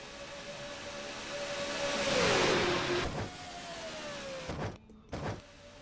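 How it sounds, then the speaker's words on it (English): Stock cars racing at Talladega in a NASCAR-style video game, a steady engine drone swelling as the pack passes, with a tonal whine sliding down in pitch, then quieter with brief bursts near the end. "And all these cars running right together here"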